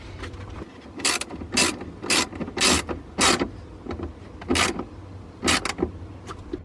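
A ratchet wrench tightens a bolt on the stock exhaust of a 2024 BMW G80 M3 in a series of close, sharp clicking bursts, about ten strokes in irregular rhythm over a low background hum.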